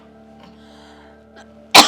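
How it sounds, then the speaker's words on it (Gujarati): After a near-silent stretch of faint room hum, a single short, loud cough bursts out close by at the very end. "પછી તને ખાંસી થઈ ગઈ છે,"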